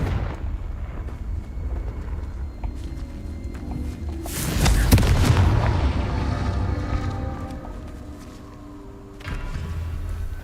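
A Confringo fire-blast spell from Hogwarts Legacy bursts with a loud, broad explosive boom that swells and rumbles for several seconds before tailing off, with game ambience around it and a second, smaller thud near the end.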